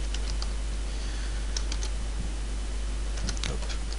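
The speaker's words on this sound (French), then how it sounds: "j'écris mon code HTML et je vais écrire bonjour article" Quick, light clacking of a computer keyboard as HTML code is typed, sparse bursts of keystrokes over a steady low electrical hum, close but soft.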